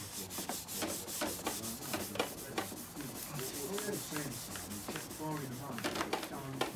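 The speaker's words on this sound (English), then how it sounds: "we're going to get a bit of compound and we're going to polish it up" Glider wing surface polished with compound by hand, a steady rhythmic rubbing that runs throughout, with a voice speaking over parts of it.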